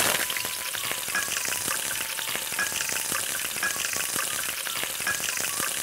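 Green chillies and curry leaves crackle in hot oil in a pot for a mutton palav, a dense continuous sizzle with faint stirring, heard alone without speech.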